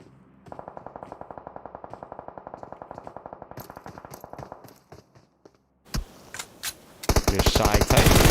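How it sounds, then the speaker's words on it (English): Rapid automatic gunfire in PUBG Mobile runs as a long, even burst, then gives way to a few sharper, louder shots and a dense, close volley at the end. "They're shooting."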